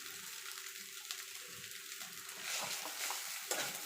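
Egg chowmein stirred and tossed in a hot pan with a steady sizzle and scraping of the spatula, the frying growing louder toward the end, with no talking.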